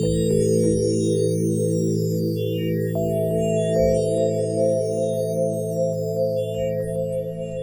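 A Predator 2 software synth preset built on user waveforms plays sustained, bright chords with dense layered harmonics. One held note shifts upward partway through, and the tone stays steady and loud throughout with no talking.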